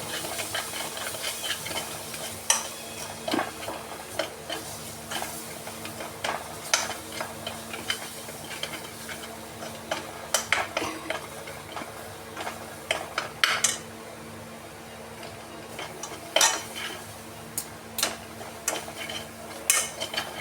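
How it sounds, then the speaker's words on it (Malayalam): Garam masala, turmeric and the base of a North Indian chicken curry stirred in a pan, with a soft hissing sizzle and scattered spoon scrapes and clinks at an irregular pace over about twenty seconds. "ഇനി നമുക്കിത് നന്നായിട്ട് ഇളക്കണം."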